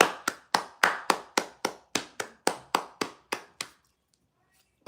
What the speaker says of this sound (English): Let's give him a hand clap.